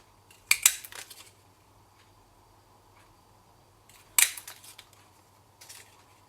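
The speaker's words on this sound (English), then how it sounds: "6 of those, and cut them all with the Itty Bitty Accents flower." Tiny paper flowers being punched out with an Itty Bitty Accents flower craft punch: two sharp, close clicking crunches a few seconds apart, each followed by softer rustling, with no talking.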